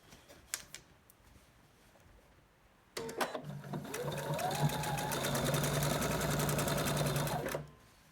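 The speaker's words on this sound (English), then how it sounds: "We're just going to sew those together along this edge" A sewing machine stitches quilt block seams together in one continuous run of rapid, even needle strokes lasting several seconds, loud and close after a few quiet handling clicks.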